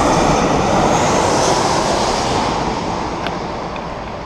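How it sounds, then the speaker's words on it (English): An airplane passes overhead with a loud, steady broadband roar that thins slightly toward the end, with no voices. "here's another plane"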